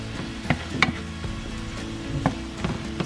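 Sausage frying in a pan, a steady soft sizzle with occasional small pops and clicks of utensils, moderately close and without talk.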